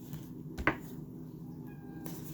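A pet cat gives a single short meow indoors in the morning, quiet and fairly close, against faint background hum.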